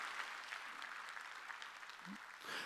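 A congregation at a Sunday church service claps, a faint, distant patter of hands that continues evenly throughout.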